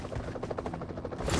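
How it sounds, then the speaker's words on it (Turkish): Rapid rotor chopping of a video game helicopter, fairly close, with a rising rush of noise toward the end as it descends to land. "Helikopter. Aha buraya iniyor."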